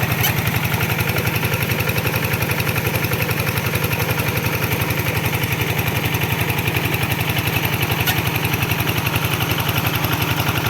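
Walking tractor engine driving a water pump beside a pond, chugging steadily and loudly at close range with a fast, even rhythm for the whole stretch.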